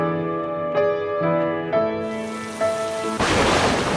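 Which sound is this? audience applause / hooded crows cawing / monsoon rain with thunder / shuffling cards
monsoon rain with thunder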